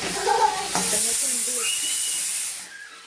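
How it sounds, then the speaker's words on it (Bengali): Steady steam hiss from a pressure cooker boiling potatoes in a home kitchen, loud and continuous for most of the clip before cutting off near the end, with faint voice-like tones mixed in. "এখানে প্রেশার কুকারে আমি বসিয়ে দিয়েছি আলুটাকে সেদ্ধ করার জন্য"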